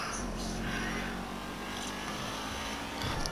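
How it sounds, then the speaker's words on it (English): Ocelot F620 coupe engine in GTA Online, a steady, continuous drone that holds at an even level throughout, with a slight swell at the very end. "It sounds like a sports car."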